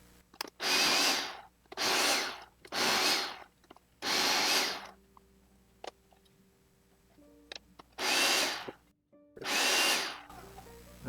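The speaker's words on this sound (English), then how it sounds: "I'm using the food processor with the grater disc in it to cut up the cauliflower" A food processor with a grater disc shreds cauliflower in six loud, close motor bursts of about a second each, separated by pauses holding small clicks and knocks.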